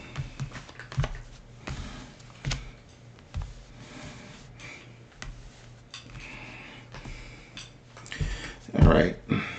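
Tarot cards are shuffled by hand in a series of soft, irregular flicks and taps, with a louder riffle near the end, close and fairly quiet.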